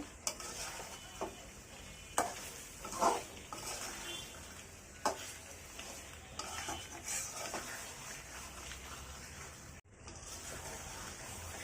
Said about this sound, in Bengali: আমি এটাকে আরও কিছুক্ষণ কষিয়ে নেব, যতক্ষণ পর্যন্ত না টমেটোটা নরম হয়ে গলা গলা হয়ে আসে